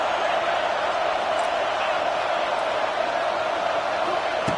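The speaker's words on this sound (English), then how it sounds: "this crowd is fired up. Listen to this noise here." A fired-up stadium crowd at a football game roars as one steady, dense wall of noise, loud and sustained with no clear breaks.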